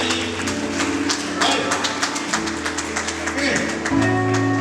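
A wedding congregation claps together in a dense, steady patter of applause, heard against a low droning musical backdrop, with faint voices mixed in.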